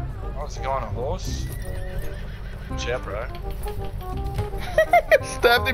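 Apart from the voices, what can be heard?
horse neighing and galloping in Battlefield 1 video game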